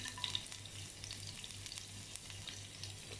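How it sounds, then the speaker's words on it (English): Quiet, steady sizzling of garlic frying in hot oil, with a faint low hum underneath and no talking. "So it starts sizzling"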